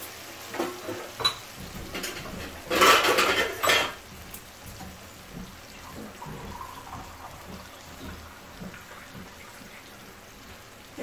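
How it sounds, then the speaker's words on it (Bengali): A little water added to fried katla fish curry and a lid put on the pan: scattered metallic clinks and taps, with a louder burst of splashing sizzle around the middle, close by. "এখন এর মধ্যে সামান্য জল দিয়ে আমি ঢেকে দেবো"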